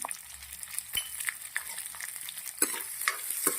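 Garlic, onion and capsicum fry in a pan, a faint, quiet sizzle with intermittent scraping and clicking as a utensil stirs the pieces.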